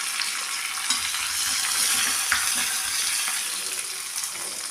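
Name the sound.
green chili, curry leaves and crushed garlic frying in pan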